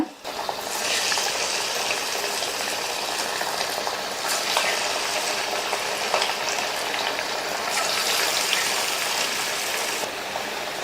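Small pieces of crispy snack dough frying in hot oil in a kadai, a continuous loud bubbling sizzle that swells and fades slightly as more pieces drop in, with a voice faintly underneath.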